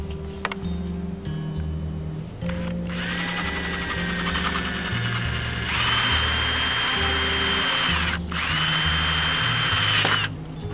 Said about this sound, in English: that's where you want to drill